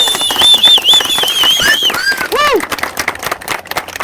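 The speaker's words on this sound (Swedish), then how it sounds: "Applåd för arrangörerna!" A crowd at Horsewood race #3 claps for the race organizers. Dense clapping builds over bright chirping tones and a voice talking.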